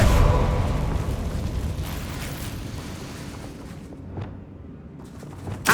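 A Confringo fire spell in Hogwarts Legacy bursts into a sustained rumbling blast that fades over several seconds, with a small pop near the end.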